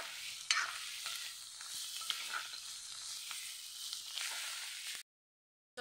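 Spices with red chili powder fry and sizzle in a pan, a steady close hiss broken by scraping stirs and small pops, cutting off abruptly near the end.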